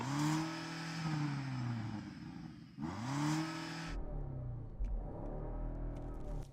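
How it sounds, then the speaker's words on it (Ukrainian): A BMW X5M V8 engine is revved hard twice, its pitch climbing and falling in rising sweeps, then settles into a rumbling idle with a few small blips. "Яні, давай послухаємо твій V8"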